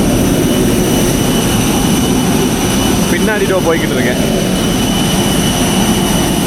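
Loud, steady roar of airplane jet engines at an airport dominates throughout, a constant close drone with someone speaking over it in the middle.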